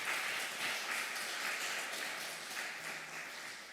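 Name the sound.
church congregation applauding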